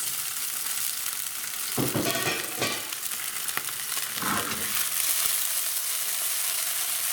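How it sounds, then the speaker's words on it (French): Sweet potato gnocchi searing in hot olive oil in a cast-iron pan, a steady bright sizzle throughout with a few louder crackling bursts as pieces hit the oil. "je vais ajouter les gnocchis pour qu'ils saisissent"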